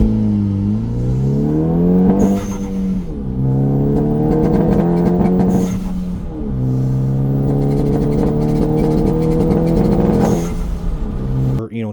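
Hyundai Veloster revving hard under full throttle with a misfire, loud close engine drone climbing in pitch through repeated pulls, with stumbling, sputtering breaks between them.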